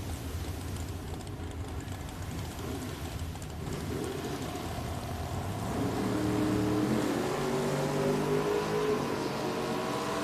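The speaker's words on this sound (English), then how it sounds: "Watch this Camaro leave the starting line tower side of the drag strip." A 1968 Chevrolet Camaro drag car launches from the starting line at Richmond Dragway, engine note swelling from a rumble into a loud rising roar with climbing harmonic tones as it pulls away.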